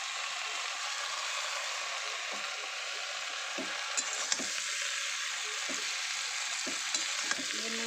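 Leafy greens fry in a pan with a soft, even sizzle, broken by repeated scraping strokes as a spatula stirs them, close and moderately quiet.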